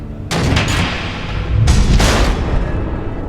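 Missiles explode in the Batman Telltale video game, two sharp close blasts a little over a second apart, each followed by rumbling, crackling debris.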